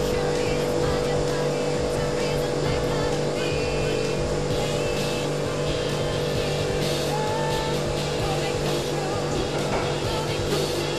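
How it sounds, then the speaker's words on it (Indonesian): An ice cream machine churns a chilled durian es puter mixture, giving off a loud, steady motor drone with a constant hum that continues unchanged throughout. "sekarang kita masukkan adonan yang sudah dingin untuk adonan es puter durian, kita masukkan ke dalam mesin"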